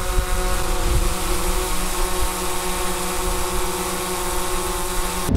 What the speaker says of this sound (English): when we have drone footage, we obviously can't use the audio because all it would sound like is